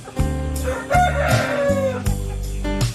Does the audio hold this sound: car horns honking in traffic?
no